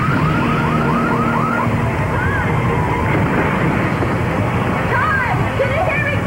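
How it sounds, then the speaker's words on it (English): A panic alarm rings loudly and steadily, with a repeating warbling pulse over a dense wash of noise, continuous for the whole stretch. "It's a panic alarm."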